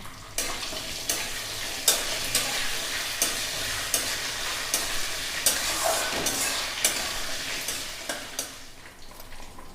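Ginger, garlic and green chillies frying in a pan for a Pahadi chicken curry: a steady, loud sizzle with regular stirring scrapes cutting through every second or so, close and without talk.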